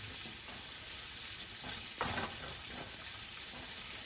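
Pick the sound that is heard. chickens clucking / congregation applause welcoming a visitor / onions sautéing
onions sautéing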